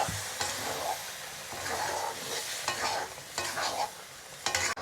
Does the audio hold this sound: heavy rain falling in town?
no